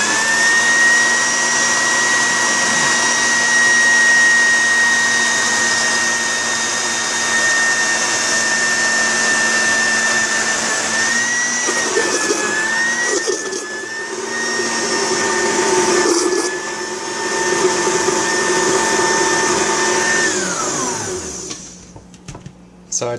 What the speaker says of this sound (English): goo like mixing up in the blender